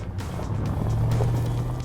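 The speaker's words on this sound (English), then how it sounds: "the cars are back on the move and giving the snow a right royal pounding" Range Rover cars driving over snow in Vermont, a steady low engine rumble holding at a constant close distance throughout, with no voices.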